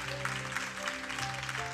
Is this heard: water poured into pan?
no